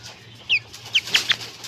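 A few soft, short clucks from a rooster of a black-meated, silkie-like breed, quiet and slightly distant, spaced irregularly over a low steady hum.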